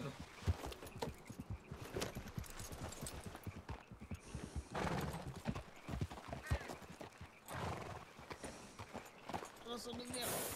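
Horse hooves clip-clopping with neighs and rattling tack in a video game, rhythmic and fairly close, running under near-constant French speech.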